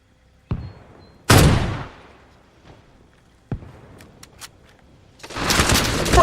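Rifle fire in Arma Reforger: a few loud, separate close shots with sharp cracks and decaying echoes, spaced seconds apart, ending in a denser rumble of firing.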